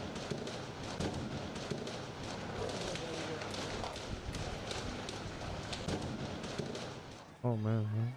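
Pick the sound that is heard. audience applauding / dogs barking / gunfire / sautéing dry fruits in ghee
gunfire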